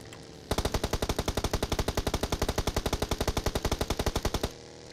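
Sustained automatic gunfire in the video game PUBG Mobile, a long, loud, rapid burst of evenly spaced shots lasting about four seconds, then stopping abruptly.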